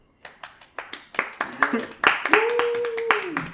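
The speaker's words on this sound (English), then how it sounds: "Don't applaud yourself, that's narcissistic." One person clapping hands during a casual podcast recording, a run of quick, close, sharp claps that speed up while other people laugh and talk over them.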